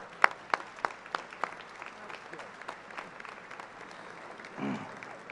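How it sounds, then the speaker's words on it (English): At a College of Education graduation ceremony, several loud, distinct claps ring out at the start before thinning into faint scattered applause, with a brief voice near the end. "Let's give her another round of applause."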